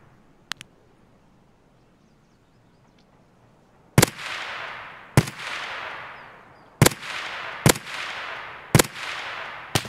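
Escape from Tarkov gunshots: six sharp, loud single cracks, each trailing into a long echo, spaced about a second apart, coming after a quiet stretch with a couple of faint clicks.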